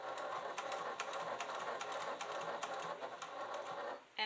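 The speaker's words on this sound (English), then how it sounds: "So let's go ahead and just do a tiny little back stitch." A sewing machine making a tiny back stitch on a clutch bag, a short, faint, steady run of quick needle ticking that stops abruptly at the end.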